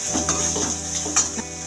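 Onions sizzle in a pan while being stirred, the base for a mushroom gravy. The frying hiss is continuous and close, with several soft scraping strokes and one sharper clink.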